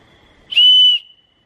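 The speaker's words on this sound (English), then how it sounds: "So I just blew a whistle." A single whistle blown close by, a clear steady shrill tone lasting about half a second before cutting off, alone against a quiet night background.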